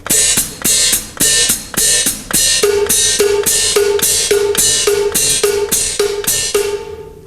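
On a drum kit, a steady hi-hat pattern drives the downbeats while a cowbell enters partway through on the upbeats, its ringing tone alternating with the cymbal hits before the final hits fade out.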